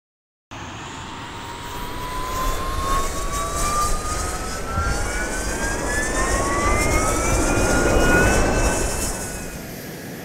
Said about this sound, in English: Now that we have the engine started